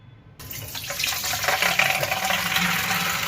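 Water pouring steadily from a bowl of soaked tuver (pigeon peas) as it is drained, a continuous splashing rush that starts abruptly after a short silence and holds at an even level.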